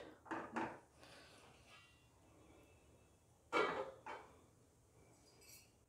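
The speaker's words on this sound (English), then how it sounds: "So now I am going to close it with the lid." A lid is set on a pot of cooking tomato thokku, giving two short clusters of metallic clinks, one at the start and another midway, with quiet between them.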